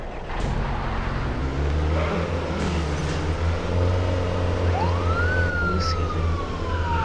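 A police car siren wails in the Madout2 video game over a low, steady car engine rumble, rising into a long sweeping tone near the end while a voice talks briefly.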